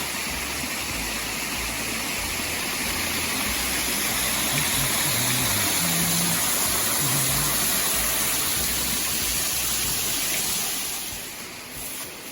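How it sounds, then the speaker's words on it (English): Lick Falls in Grayson Lake State Park roars steadily from close by, a broad continuous rush of falling water that holds level and eases slightly near the end. "We're here near the edge of the waterfall"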